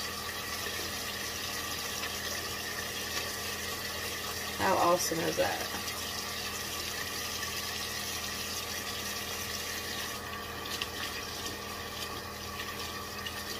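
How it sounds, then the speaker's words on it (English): Cold tap water runs steadily while hands are washed under it with handmade hot-process soap, with a brief burst of splashing and a short spoken remark over the flow. "And I am washing my hands."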